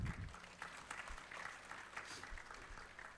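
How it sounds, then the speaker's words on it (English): An audience at a medical career seminar claps for a guest speaker. The applause is soft and distant but holds as an even patter throughout. "A big round of applause"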